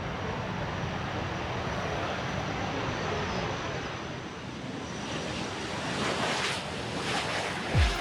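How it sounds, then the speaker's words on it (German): A MiG-15 jet fighter taking off, a broad, continuous roar of rushing noise that swells slightly toward the end, heard at some distance. "Nach nur 700 Metern hebt die MiG-15 ab."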